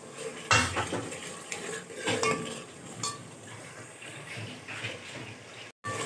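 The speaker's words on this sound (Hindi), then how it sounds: "अब इसमें हम ये आलूओं को डाल के और इनको भी 5 मिनट भून लेंगे अच्छी तरह से।" Peas and potatoes stir-fried in a pot for aloo matar sabzi, heard as repeated clattering scrapes of a spoon against metal in irregular bursts, fairly close, with a faint sizzle underneath and no talking.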